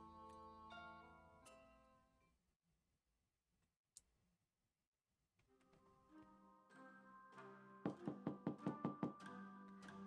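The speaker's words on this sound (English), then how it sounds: "I open my eyes to the incessant sound of fists banging on my door" Fists bang on a door in a game scene, a rapid run of about seven loud, close knocks arriving near the end, over a sustained musical background that fades out and then comes back.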